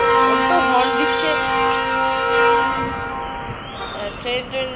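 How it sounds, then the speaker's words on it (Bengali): A vehicle horn sounds with sustained tones outside a hotel in Ranchi, near a railway line, and people talk over it while traffic noise continues in the background. "তো হর্ন দিচ্ছে,"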